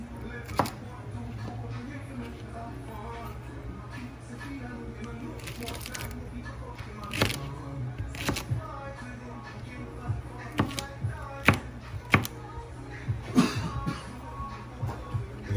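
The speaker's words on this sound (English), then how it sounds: "I like the okra cut up fine" A knife chops okra finely on a board in irregular, close taps and thuds that grow sharper and more frequent over time, while someone talks throughout.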